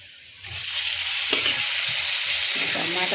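Onions and vegetable bhaji sizzle and fry in a hot pan, with a steady crackling hiss and a few stirring scrapes as the cooking goes on.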